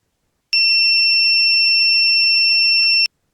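An Arduino smart doorbell's buzzer set off by a PIR motion sensor gives one steady, shrill electronic tone lasting about two and a half seconds, loud and alone, starting and stopping abruptly.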